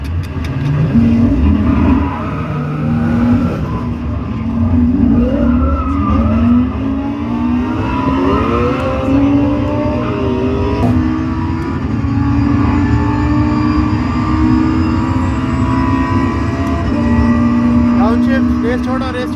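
Race cars at a motorsport drag event in India, engines roaring and revving steadily through repeated accelerations and shifts, loud and close, with people talking over the noise.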